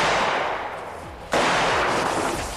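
A single loud gunshot fired at a body armor vest cracks sharply mid-clip, followed by a sustained roar of noise and echo.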